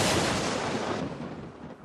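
A sharp crack of thunder that rumbles and fades away over about two seconds.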